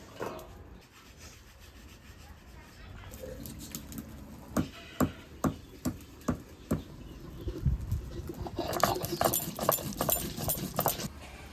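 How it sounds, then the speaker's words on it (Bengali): Whole garam masala spices are ground by hand: a run of evenly spaced sharp knocks, then rough, continuous rubbing and grinding strokes, heard close with no talking. "গোটা গরম মশলা বেটে দেবো।"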